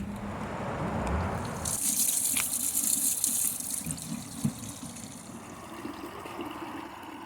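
Fresh spring water gushing steadily from a tap, a continuous hissing rush that grows brighter and stronger after the first two seconds, with faint clatter and no speech.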